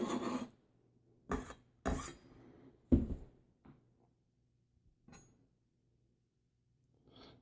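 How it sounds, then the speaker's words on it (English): Chopped vegetables for pico de gallo are tossed into a bowl in a few quick, separate clattering drops and light knocks, with quiet gaps between them and faint handling sounds at the end. "Toss those in our bowl here"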